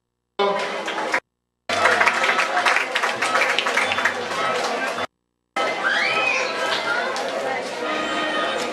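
An audience claps and chatters at a ninth-grade graduation ceremony in Cantón El Trillo, bursts of applause broken by two brief silent gaps, with crowd noise and a voice mixed in.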